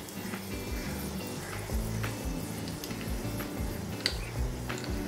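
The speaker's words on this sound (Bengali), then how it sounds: "তেল কিন্তু গরম হয়ে গেছে, শুকনো লঙ্কাগুলো দিয়ে দিলাম, আর এই যে একটুখানি সর্ষে ফোড়ন" Dried red chillies and mustard seeds spit and sizzle in hot oil for a Bengali sour mango dal tempering, a steady close crackle with scattered sharp pops throughout.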